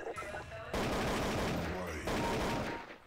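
Rifle gunfire in the video game Counter-Strike 1.6, loud sustained bursts of rapid automatic shots in two dense stretches, near and harsh, with a player's voice faintly present around them.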